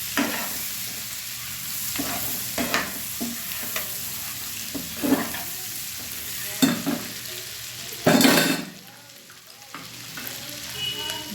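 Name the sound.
boiled eggs frying with softened onions in a pan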